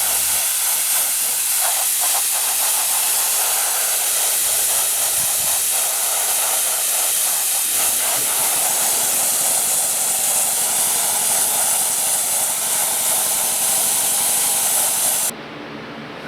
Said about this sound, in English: Now light dusting with the sandblaster.